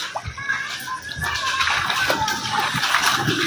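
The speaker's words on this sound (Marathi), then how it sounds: "कसल्या स्पीडनं पाणी या लक्ष्मीनगरमध्ये चाललेलं आहे" Floodwater rushes fast down a street in Laxminagar, Pandharpur, after heavy monsoon rain with no open gutters. A steady, close, broadband roar of splashing, churning water runs throughout, with faint voices underneath.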